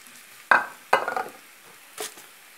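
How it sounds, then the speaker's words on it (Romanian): Finely chopped onion hits a little hot oil and is stirred, giving two sharp sizzling bursts followed by a fainter scrape, close up in a quiet kitchen with no talking. "Ceapa am tăiat-o foarte mărunt și o să prăjesc cu un puțin ulei."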